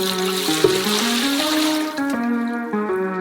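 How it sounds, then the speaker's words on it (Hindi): Three litres of water pour steadily and loudly into a large saucepan, the hollow ringing tone rising in pitch as the pan fills, with no talking. "एक बड़े सॉसपैन में 3 लीटर पानी।"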